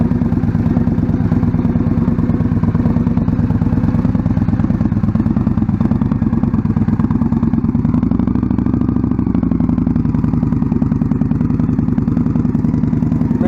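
A motorcycle doing a slow-speed riding drill, its engine running steadily at low revs with a rhythmic, clattery mid-range drone, close and loud throughout, shifting slightly in tone partway as the throttle eases.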